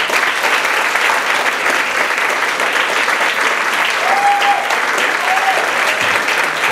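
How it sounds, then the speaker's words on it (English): Audience giving a round of applause at a Baltimore exhibition event, loud continuous clapping with crowd noise and a couple of brief whistles or cheers rising above it. "So let's give a round of applause to Mr."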